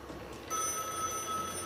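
A cheap phone on a Broadband Hamnet amateur radio mesh network ringing after extension 801 is dialed, a faint steady electronic ring tone with a low hum beneath it.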